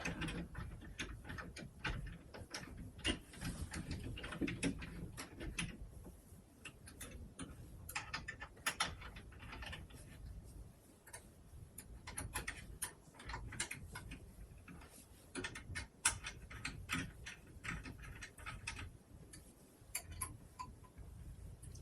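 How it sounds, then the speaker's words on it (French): Screws are turned by hand into threaded holes while fitting a Y-axis motor on a CNC Aureus 3X, giving quiet, close, irregular ticking and ratcheting clicks that run continuously with no speech. "Je n'applique pas de serrage fort tant que j'ai pas tous les filetages insérés."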